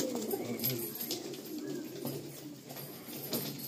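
Breeding pigeons in Kolkata coo softly and repeatedly close by, low throaty calls against a quiet background, with faint voices now and then.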